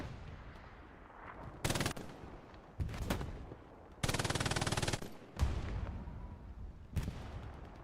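Machine gun fire in the video game Hell Let Loose, several separate bursts of rapid automatic shots from a nearby MG position, with one longer sustained burst in the middle and shorter rattles around it, heard alone.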